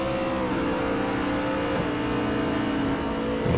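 A Ferrari race car in Forza Motorsport 4 screams at full throttle with restrictors open, a loud, steady high-revving engine note holding close and constant throughout with no talk.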